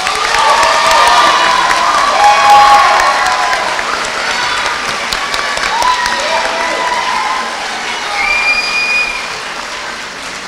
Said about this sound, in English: Please join me with giving these students a round of applause.